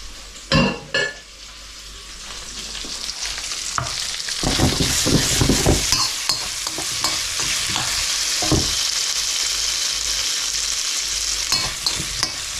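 Sweet corn frying in olive oil over maximum heat for prawn and chorizo fried rice: a steady, loud sizzle runs throughout, broken by scraping stirs and a few sharp clatters of utensil against pan, with no talking.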